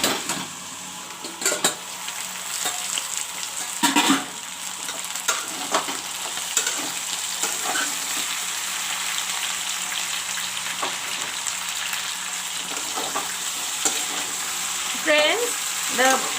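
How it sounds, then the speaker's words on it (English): Okra and potatoes sizzle and fry in a pan, with occasional stirring clinks and scrapes of a utensil against the pan. "the bhindi and the potatoes frying nicely"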